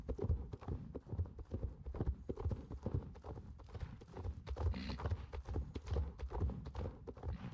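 Steady rhythmic hoofbeats of a horse trotting in the Star Stable video game, clip-clopping continuously and fairly close with an even pace, light background game ambience, no talking.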